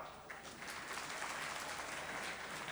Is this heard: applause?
yes